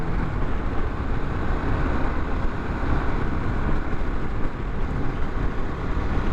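A 2021 Harley Sportster S motorcycle cruising at almost 60 mph, its engine a steady, loud low drone blended with heavy wind rush, continuous with no talk.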